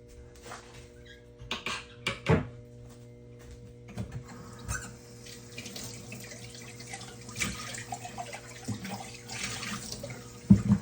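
Warm tap water runs into a bowl of yeast in a home kitchen, a steady close splashing stream with a few louder knocks and clinks of dishes, no voices.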